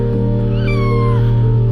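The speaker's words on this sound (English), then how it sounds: "The driver of the garbage truck discovered kittens among the trash and got them out." Kittens discovered among trash in a garbage truck let out a drawn-out, high meow, fairly close, over a steady low mechanical hum.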